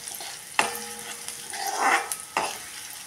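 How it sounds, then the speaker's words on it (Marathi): Finely chopped onion sautéing in a pan for karela bhaji, with a soft sizzle and a few sharp stirring scrapes of a spoon against the pan, close and moderately quiet. "आता टाकलेला आहे बारीक केलेला कांदा। कांदा थोडासा मऊ होईपर्यंत परतून घ्यायचा आहे।"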